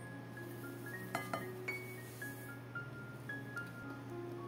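A spoon clinks against a glass bowl while breadcrumbs are stirred into flan mixture. A few light, irregular taps sound close over a steady low hum.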